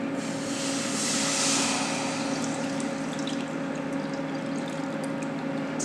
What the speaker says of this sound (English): So I'm going to carefully pour this in here.